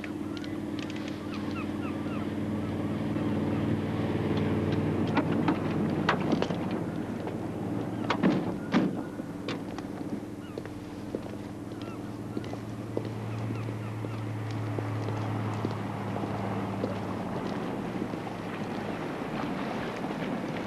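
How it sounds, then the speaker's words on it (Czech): A boat approaches on the water, its steady low engine drone continuous throughout, joined by honking goose-like calls and splashy bursts in the middle, with wind noise over the whole scene. "Hele, blíží se člun"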